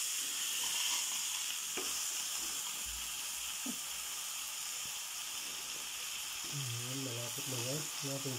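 Pork chop sizzling as it grills in a pan on a stovetop rather than over charcoal, a steady broad hiss running the whole time with a few small pops, a voice briefly talking over it near the end.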